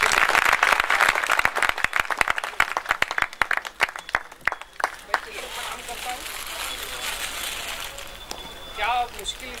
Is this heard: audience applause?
yes